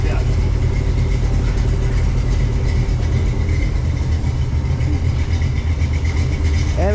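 A project car engine runs steadily nearby with a constant low rumble and even drone at moderate loudness, while people talk faintly over it.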